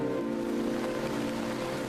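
Soft continuous rain from a video game trailer, a dense even hiss of falling water that runs steady and fairly quiet throughout, with no voices.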